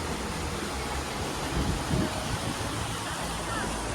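A village river runs beneath a bridge in the Konkan countryside, giving a steady broadband rush of flowing water with some wind noise and a slight swell midway, with no break and nobody talking.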